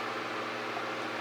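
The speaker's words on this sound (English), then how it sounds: "Sorry about the noise from the fan." A fan runs in a room with a steady, even whooshing hiss and low hum, close and continuous, with no voices.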